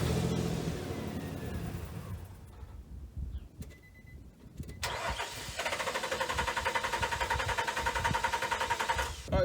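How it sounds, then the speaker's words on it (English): A truck engine with a faulty fuel pump cranks and catches, then runs rough and loud with a rapid, uneven pulsing rhythm, after a brief quieter stretch. "I'd say that's the fuel pump."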